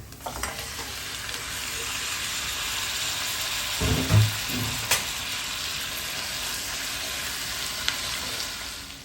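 Tenderized beef dropped into a pan with garlic and onion, frying with a steady broad sizzle throughout, plus a brief stirring clatter near the middle, close and continuous.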